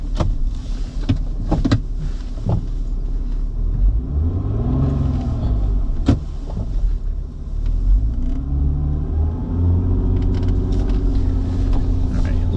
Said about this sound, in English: Yeah, we're spinning our back tires a little bit,